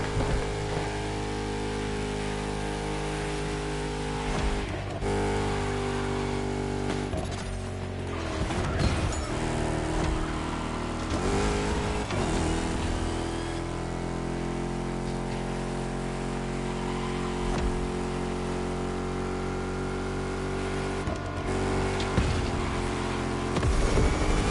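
Chrysler 300 SRT8 sedan with a V8 Hemi racing in a video game: a loud, continuous engine drone with shifting revs and occasional scraping or impact bursts, no talk.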